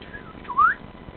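A person whistles a short rising twitter imitating a robin, one brief thin upward-gliding note, close but soft over faint room noise.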